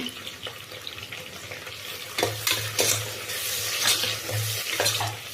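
Tomatoes sizzle and fry in hot oil for a chicken gravy with masala, with steady crackling and scraping stirring strokes throughout, close and moderately loud, and no voices.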